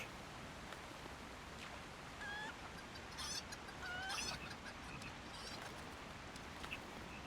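Chickens clucking in the online game LOTRO, a few short clucks and squawks popping out over a steady, noisy game ambience, moderately near with no talking.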